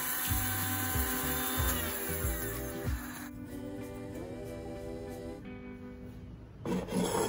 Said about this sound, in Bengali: তো আমি আরও একটু গুঁড়ো করে নিচ্ছি।